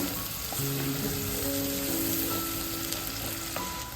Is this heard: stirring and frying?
yes